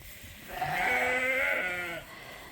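A single sheep on a farm lets out one drawn-out, wavering bleat lasting over a second. It is close and clear, with faint background noise before and after.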